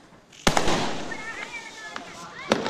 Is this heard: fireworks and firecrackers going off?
yes